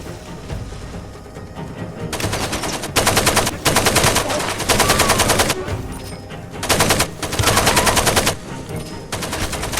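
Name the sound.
AK rifle gunfire in a S.T.A.L.K.E.R.-style video game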